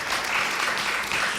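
A school audience bursts into dense, continuous applause, many hands clapping loudly together in a steady wash of sound.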